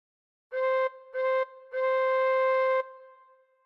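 Tin whistle with all six holes covered, blown hard three times: two short notes then a longer held one, clear and close with no talking.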